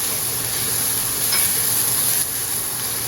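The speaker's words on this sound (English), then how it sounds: "Hold on, stir for a few seconds, and then add the bok choy, leaves, and the spring onions." Bok choy stalks stir-fry in a hot wok during a dim sum cooking class. The hiss and sizzle stay loud and steady, with faint scraping as the wok is stirred and no voices.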